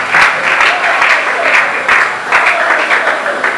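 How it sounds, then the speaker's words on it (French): Audience applauding in church, a loud, close, continuous clapping from a crowd with a voice speaking faintly underneath. "On acclame plus fort pour la gloire de l'Éternel, on peut acclamer."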